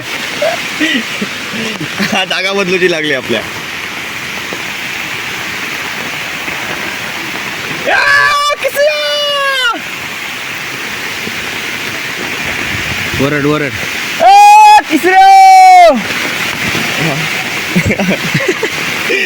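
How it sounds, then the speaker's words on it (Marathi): Sudden heavy rain pours down at an outdoor riverside ghat, a dense, continuous rushing hiss close by, while several people shout and talk over it in bursts. "एवढं कसं अचानक पाऊस येलो"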